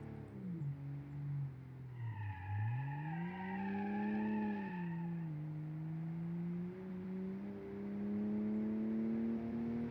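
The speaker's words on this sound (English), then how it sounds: "Boxer 6 engine here" A boxer-six car engine in a video game driving and revving, a smooth humming tone that rises, dips and climbs again through gear changes, steady and close throughout with no talk.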